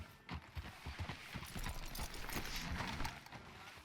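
Horse hooves clip-clopping at a steady walking rhythm in the Red Dead Redemption 2 video game, close and fairly quiet, with no talk over them.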